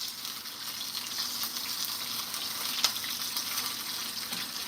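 A steak sears in a hot pan with rosemary, a steady crackling sizzle with a brief louder pop midway, close and continuous without speech.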